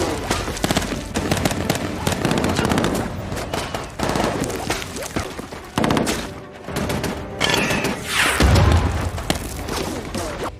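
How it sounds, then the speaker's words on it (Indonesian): Dense gunfire fills a war film gunfight, with rapid bursts and fusillades, booms and explosions crackling loudly throughout, mixed with shouting and a voice speaking over the action. "mereka bergegas membantu Kapten Nelson, dan baku tembak pun terjadi"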